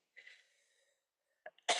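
A single sharp, explosive cough bursts out near the end, preceded by a brief wheezy breath and a small catch, otherwise quiet.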